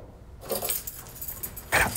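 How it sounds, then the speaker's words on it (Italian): Keys jingle and clink in short bursts close by, a metallic rattling that starts abruptly and returns near the end, with no talking. "Le chiavi."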